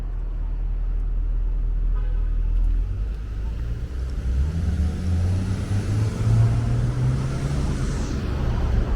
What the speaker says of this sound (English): Traffic seems pretty steady.